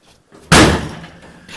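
A car door on a Jaguar Daimler MK2 sedan slams shut once with a loud, solid thud after a brief quiet moment, followed by a short fading rattle.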